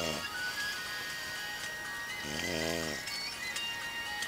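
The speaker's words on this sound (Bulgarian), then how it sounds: "И хърка." A person asleep outdoors at an off-road camp snores in a single drawn-out rasping breath, close and moderately loud over a steady background hiss, with no talk.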